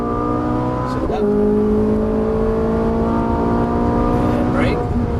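A Ferrari 458 Italia on the Exotics Racing track in Las Vegas, its engine note climbing steadily under acceleration in a smooth, continuous rising whine, with a voice talking over it.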